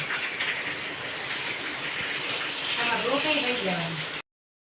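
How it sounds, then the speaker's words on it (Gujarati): Heavy rain pours down on a village, a steady, dense hiss filling the whole stretch, with a voice briefly audible near the end. "વરસાદે ચાલુ થઈ ગયો. બેટિંગ વરસાદ."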